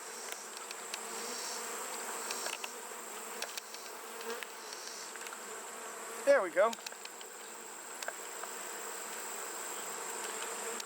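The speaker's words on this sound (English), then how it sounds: "So these are my killer bees." A constant droning hum of many killer bees swarming close by at a hive, steady throughout, briefly interrupted by a short spoken phrase.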